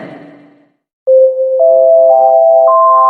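A telephone ringtone plays loud and steady, sustained electronic tones that step upward in pitch after a brief quiet gap.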